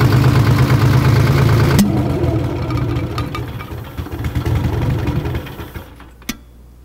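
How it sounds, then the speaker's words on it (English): A two-stroke V6 diesel engine cranks and fires, then runs with a loud, rough mid-pitched drone that gradually fades before shutting off with a sharp click. "then I'm going to start the engine"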